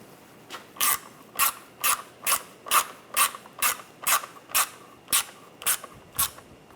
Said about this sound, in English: Put the screw in. Tighten that screw down.